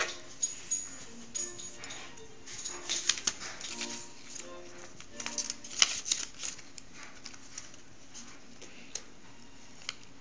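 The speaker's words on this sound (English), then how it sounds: "You can just kind of like push your scissors into the hole and cut around the little circle." Scissors snip through paper while cutting out a mushroom paper design, a string of small, soft crisp clicks and rustles spread unevenly across the stretch, close and fairly quiet.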